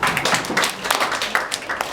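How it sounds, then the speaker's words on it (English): An audience at a community meeting on a cook stove carbon project in Kisii County claps for a speaker, a short, even burst of many hands heard close and clear. "Let's clap for her."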